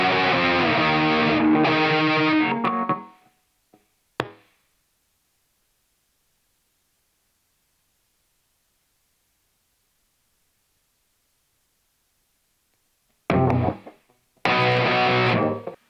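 Distorted electric guitar tones from an Ibanez RVX200 Rocket Roll, loud and dense for about three seconds, then a single brief hit, a long silence, and two more loud distorted bursts near the end.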